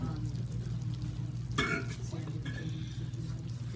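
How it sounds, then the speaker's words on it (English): Walnut-stuffed figs simmering in sugar syrup in a pan, a soft, steady bubbling with a brief clatter partway through, quiet and close. "You can see our figs stuffed with walnuts are simmering in the sugar syrup mixture."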